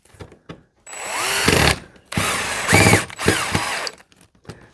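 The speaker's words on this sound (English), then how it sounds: "Take my drill, take your screws, put your fuselage up to your line." A power drill driving screws into the fuselage of an Aviation Products P-51 pedal plane, three loud close whirring runs with rising and falling pitch and short pauses between them.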